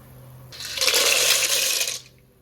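Pasta drops into a pot of boiling vegetable stock with garlic, parsley and oregano, giving a close, steady watery rush and splash that lasts about a second and a half before settling.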